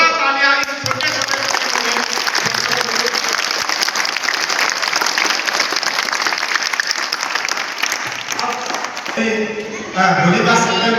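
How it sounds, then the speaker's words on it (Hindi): Loud, sustained applause from a large crowd cheering children at an outdoor rally, dense clapping running for several seconds with a voice briefly heard at the end. "एक बार जोरदार तालियां इस छोटे छोटे"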